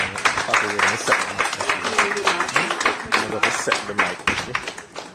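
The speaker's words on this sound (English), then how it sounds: "Could we have another round of applause for the..." An audience at a ceremony breaks into brisk, irregular applause of many hands, close and continuous, with some voices talking underneath.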